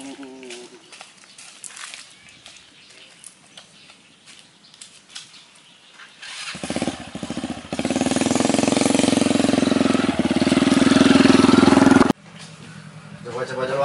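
A motorcycle engine starts up and runs loud and close for several seconds with a rough, steady roar, while people talk before and around it.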